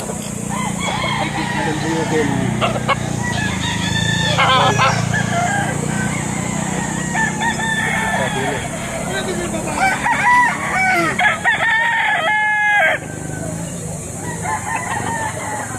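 Several roosters crow repeatedly at a busy chicken market, loud and close, their drawn-out calls overlapping with clucking and a steady mechanical hum while people talk in the background.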